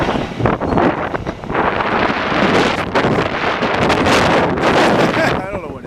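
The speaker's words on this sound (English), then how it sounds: "God damn wind today" Strong gusts buffet the microphone during a walk along Rue Jean-Talon in Montreal's Park Extension district, loud rough roaring bursts that swell and fade across the clip, with a voice partly audible beneath.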